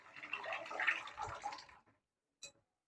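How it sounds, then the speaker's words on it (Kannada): Cooked dal for methi dal slides into a pan with a soft, wet, sloshing pour lasting under two seconds, faint and close, followed by a brief small clink. "ನಾನಿಲ್ಲಿ ಬೇಯಿಸಿ ಇಟ್ಕೊಂಡಿರೋಂಥ ದಾಲ್ ಹಾಕ್ತಾಯಿದ್ದೀನಿ."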